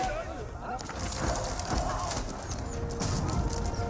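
A dense, continuous clatter of many galloping hooves from cavalry in Age of Empires, with horses and battle noise churning together at a steady, loud level.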